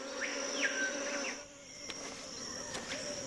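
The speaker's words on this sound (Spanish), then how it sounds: "las avispas empiezan a agitarse bruscamente, dando así la alarma" A steady, high insect buzz hums throughout, with sharper whining passes of individual insects flying close by, fairly faint and with no voices.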